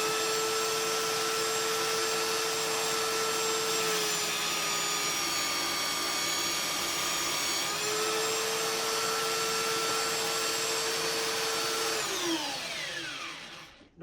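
A Parkside PBSD 900 A1 belt sander runs on a small piece of wood with a strong, steady whine that dips briefly in pitch under load, then spins down and stops near the end. No one speaks.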